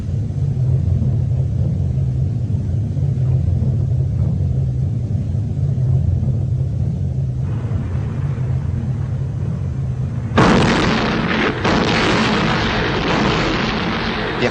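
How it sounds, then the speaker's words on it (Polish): Concentric bombardment of a besieged city, as in the September 1939 siege of Warsaw, brings heavy low rumbling booms of artillery and explosions, building into a louder, harsher barrage of blasts near the end. "Rozpoczyna się bombardowanie koncentryczne."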